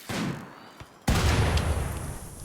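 A Doomsday rocket launcher fires in the RimWorld video game: a soft rushing hiss, then a sudden loud blast that rolls into a sustained, fading rumble.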